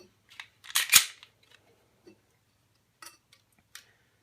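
A stock Glock pistol trigger is pulled through quickly, giving a quick cluster of sharp mechanical clicks and scrapes followed by a few faint isolated ticks in a quiet room.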